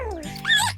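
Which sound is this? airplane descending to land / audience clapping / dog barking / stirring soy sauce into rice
dog barking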